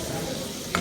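Chowder base with thyme, peppercorns and a bay leaf sautéing in a pan, a soft, continuous sizzle with a brief stirring scrape near the end, no voices.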